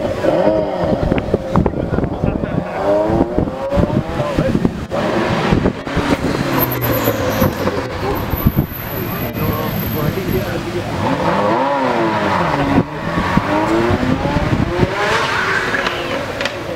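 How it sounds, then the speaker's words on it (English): A Ferrari F40 supercar passes amid a busy car show, its engine sweeping by over a steady crowd murmur and other traffic, with voices chattering throughout. "we've got a Ferrari F40 by the looks of it"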